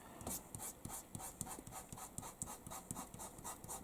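Oil pastels rubbed and blended across paper in quick, repeated back-and-forth strokes, a soft, scratchy, even rhythm, faint and close.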